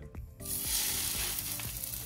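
Sea bass drops into hot olive oil in a pan and bursts into loud, continuous sizzling and crackling close by, with a few light knocks at the pan.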